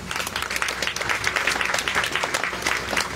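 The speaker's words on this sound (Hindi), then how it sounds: "हाँ इनके लिए ताली बजाओ।" Sustained audience applause fills a Bhagwat katha gathering in Karhera Colony, Mohan Nagar, Ghaziabad, a dense steady clapping from a crowd that holds at full strength throughout.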